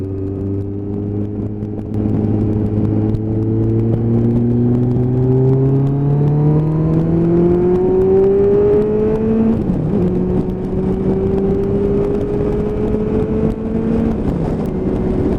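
A motorcycle pulls hard in the outside lane, its engine note climbing steadily in pitch through a long rising rev, dipping briefly at two gear shifts before rising again, loud and close without any talk.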